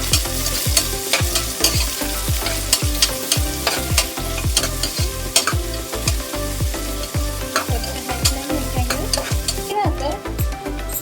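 Sliced onions fry loudly in a pan for a ghee rice and chicken curry, with a steady bright sizzle broken by frequent rhythmic scraping knocks of stirring close to the microphone.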